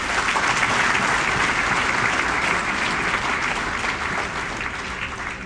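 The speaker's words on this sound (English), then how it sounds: "But please, round of applause." Sustained audience clapping at an awards ceremony, loud and dense at first, then thinning and tapering gradually over about five seconds.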